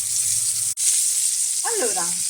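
Meat browning in a pan for an Italian cacio e pepe recipe gives a steady, loud hissing sizzle throughout, briefly cut by a dropout, with a voice speaking over the frying near the end.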